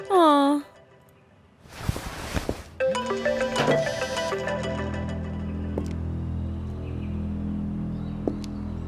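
A mobile phone ringtone plays loudly as a melodic, repeating electronic tune in a domestic drama scene, with a brief burst of other sound near the start and the ring continuing steadily to the end.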